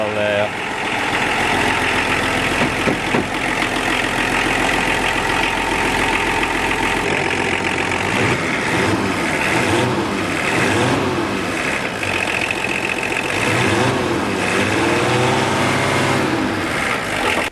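A Volvo 240 left sitting for ten years cranks and catches, then settles into a steady, loud idle with uneven revving pulses; no one speaks.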